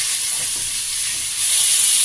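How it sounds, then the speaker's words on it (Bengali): Eggplant and tomato fry in a pan over raised heat, giving a loud, continuous hissing sizzle that swells slightly in the final second, with no voices. "জোরটা বাড়িয়ে দিয়ে এগুলো সব ভেজে নিয়ে তারপরে টমেটো, বেগুনটা আবার ভেজে নিই"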